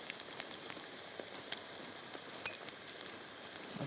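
Steady, fine crackling sizzle of an omelette frying in a hot pan, close and even with small popping spikes, no voices.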